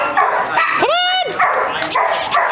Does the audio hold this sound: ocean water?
no